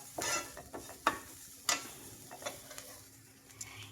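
Crushed ginger and garlic fry quietly in a pan while being stirred, giving a soft sizzle with intermittent spoon scrapes and taps against the pan.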